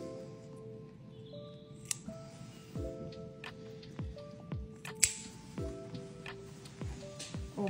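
Nail clippers snipping a cat's claws during grooping at a groomer, a few crisp clicks and snips spaced irregularly over quiet background, close and fairly faint.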